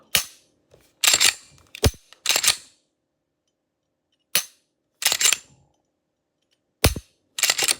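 A handgun goes off when the trigger is released, giving a series of sharp, loud bangs spaced irregularly with silence between them and no talk.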